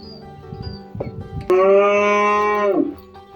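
A cow at a cattle market in Probolinggo lets out a single loud, drawn-out moo close by, preceded by soft shuffling and background market noise.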